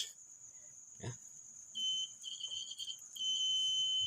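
High-pitched electronic beeping: a steady shrill tone with a second beep that cuts in and out, up close with no talking.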